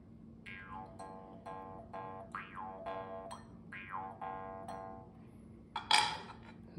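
A jaw harp twangs in a series of resonant boinging notes with sliding pitch, about six plucked phrases at an even pace, close and fairly quiet, ending with a brief brighter burst.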